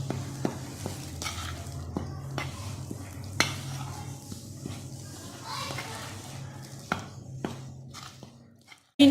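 Powdered sugar, salt and instant yeast are stirred together in a bowl, with scattered light scrapes and taps of a spoon against the bowl, faint and close.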